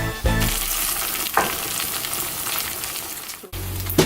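Flour and Tofutti vegan sour cream being stirred into a hot pan for stroganoff, a steady loud sizzle and frying hiss with scraping stir strokes, briefly dipping near the end before resuming.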